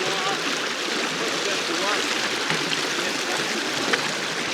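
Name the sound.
river flowing past stepping stones in Scotland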